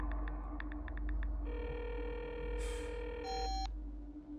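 A phone call placed to a man who does not pick up, with keypad dial tones at the start and then steady electronic ringback and beeping tones, heard alone with no talk over a low hum.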